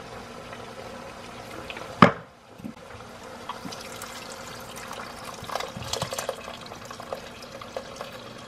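A 14.5 ounce can of beef broth poured into a cooking pot: a single sharp clunk, then soft, faint liquid splashing and trickling in a quiet kitchen.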